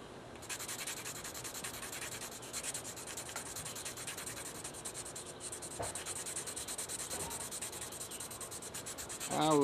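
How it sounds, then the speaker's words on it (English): Graphite pencil shading back and forth across a sheet of white paper, a steady close scratchy rubbing that continues without pause for nearly ten seconds and grows a little louder right at the end. "I'll darken a section with the pencil."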